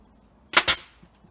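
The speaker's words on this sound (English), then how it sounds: "we'll just, you know, fire an extra couple in there." A DeWalt DPN1850PP 18-gauge brad nailer in single-shot mode fires two brads into a wooden frame, two sharp, loud, close pops in quick succession, followed by a faint click and quiet.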